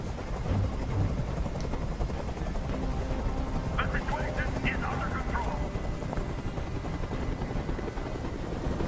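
Helicopter rotor noise from the video game Detroit: Become Human, a steady loud thudding drone that fills the whole stretch, with voices talking over it.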